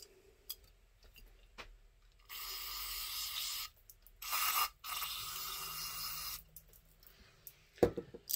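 Brake parts cleaner sprayed from an aerosol can onto a Holley 1920 carburetor, several bursts of hissing spray lasting a second or more each, separated by quiet gaps with faint clicks and handling noises.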